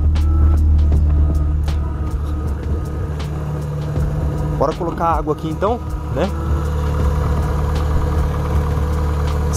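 A car engine idles with a steady low hum while a person talks nearby, with some clicks and small mechanical noises over the running motor.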